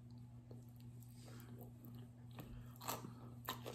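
Someone bites and chews a corn starch brick, with crisp crunches and sharp snaps at irregular intervals over soft chewing, close and quiet, the louder breaks coming near the end.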